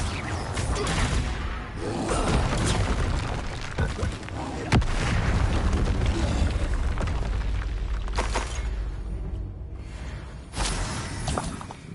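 A Confringo blasting spell explodes in the Hogwarts Legacy game, a dense, loud wash of booming blasts and whooshing bursts with a sharp crack partway through.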